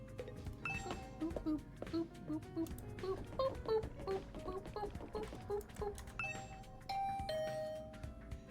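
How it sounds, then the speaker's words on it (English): A doorbell chime rings at a room door in the video game The Hundred Line: Last Defense Academy, heard as a short series of tonal dings over quiet background game music. "I rang the doorbell to Tsubasa's room."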